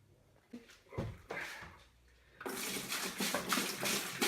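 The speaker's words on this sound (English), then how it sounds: "There's the wort going in." Homebrew beer wort pours into a fermenter; after a few soft knocks and handling noises, a loud, steady rushing splash starts and continues up close.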